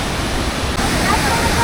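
Hulugan Falls pours with strong flow, a dense, steady roar of falling water heard close and loud without a break.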